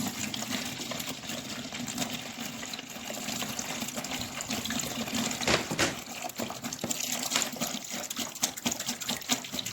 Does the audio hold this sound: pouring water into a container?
yes